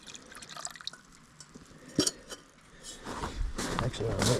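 Maple syrup sap dripping from a collection container during first-time syrup making inside a camper, heard as a few faint scattered drips over rustling and handling noises, with a louder stretch of clatter toward the end.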